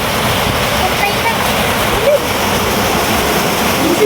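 Rushing floodwater roars in a dense, continuous wash that has risen level with the surrounding ground, loud and close, with voices talking over it.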